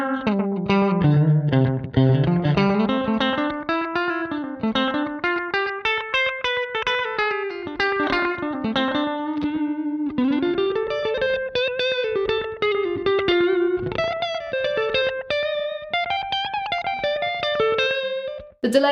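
A clean electric guitar picks a melodic line through an Xvive Echoman V21 pedal, its notes smeared by a shimmering modulation and echoing delay, played steadily and up close.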